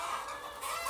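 Chicken clucking in a video game about hens laying eggs, a short steady burst of squawky fowl sounds, fairly loud and close with no talk over it.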